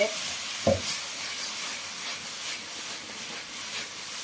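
Luffa being stir-fried in a wok with salt, chicken bouillon, oyster sauce and a splash of water, giving a steady close sizzle and hiss with one sharp clatter of the spatula near the start.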